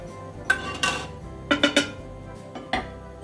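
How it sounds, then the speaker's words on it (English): A spoon stirs mustard into a marinade of soy sauce and brown sugar for slow-roasted chicken, giving about six sharp metallic clinks against the vessel in an irregular rhythm, close and clear, with no talking. "To that we add the mustard. I'm going to mix that in so it gets nice and mixed in there."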